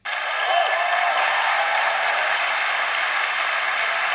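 Steady, even applause from a large Liberal convention audience, a continuous dense wash of clapping that starts abruptly and holds at one level throughout.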